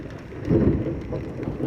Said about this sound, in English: This is the storm I was telling you guys.